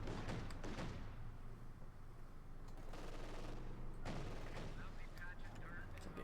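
Dense battlefield gunfire from Company of Heroes 2, with a German MG42 machine gun joining sustained bursts, booms and rattling shots that continue throughout, loud and layered with other combat noise.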